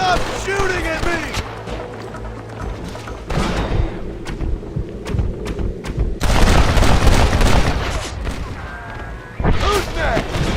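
Gunfire during a cliffside shootout in Red Dead Redemption, with repeated loud booms and shots over game score and ambient noise, heavy bursts clustering in the second half.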